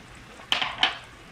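Two short metallic scrapes of a utensil against a frying pan as powdered red chili, coriander and cumin are stirred in with ginger garlic for a Hyderabadi brinjal curry, close and brief over a quiet background.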